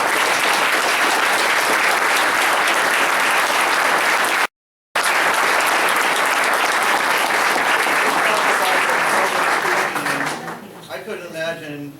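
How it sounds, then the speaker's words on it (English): School board meeting audience applauds an 8th grade girl, sustained loud clapping from a crowded room with a brief dropout midway, fading out near the end as a voice begins. "Could you people please give them an applause?"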